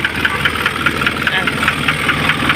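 A rough-running Isuzu 4HL1 diesel engine idles close by with a steady knocking clatter and uneven beat, after overheating problems, while someone talks over it.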